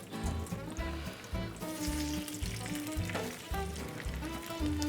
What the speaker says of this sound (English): There's the sizzle.